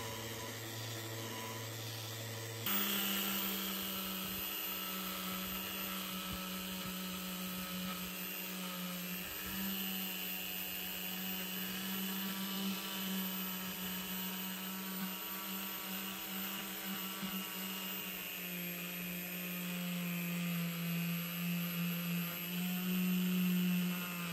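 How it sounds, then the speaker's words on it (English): A circular sander dry-sands a flat Jesmonite terrazzo tray, giving a steady, loud whine with a constant hum that runs unbroken after a brief quieter start, with no voices. "We're using a circular sander to help us reveal the terrazzo faster."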